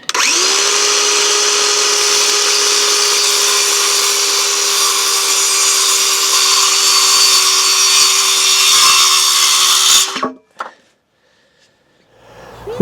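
Loud, close power tool cuts through wooden legs for a strawberry planter in one long steady whine lasting about ten seconds, then stops abruptly, leaving a few faint knocks and near silence.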